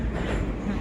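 A Tashkent metro train runs with a dense, low rumbling roar heard from inside the carriage, brief and continuous.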